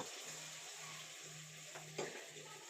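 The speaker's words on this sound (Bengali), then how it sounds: "আমি সব মশলাগুলোকে তেলে দিয়ে দিব।" Onion, cumin, ginger and garlic paste frying in hot oil, a steady low sizzle with a soft stir or spoon clink near the end, no voices.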